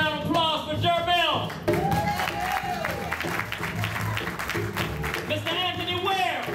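Applause from a jazz concert audience at a club venue, a steady wash of clapping mixed with crowd noise and lingering band tones, with voices talking over it near the start and end.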